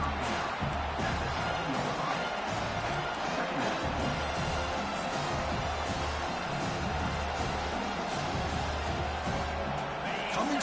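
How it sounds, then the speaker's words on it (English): A football stadium crowd roars as one dense, continuous wall of cheering and noise that stays loud and steady throughout, with no quiet gaps. "this crowd is fired up. Listen to this noise here"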